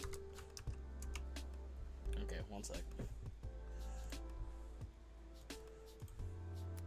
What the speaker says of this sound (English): You are not typing it in the chat. You are typing Discord.